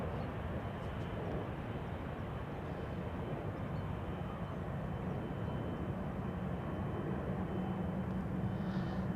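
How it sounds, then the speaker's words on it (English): Embraer E195-E2 jet climbing away after takeoff from Amsterdam Schiphol, a faint, distant, steady engine rumble that holds evenly throughout, with no voices over it. "Another E2 Embraer 195 just now took off from center to Krakow"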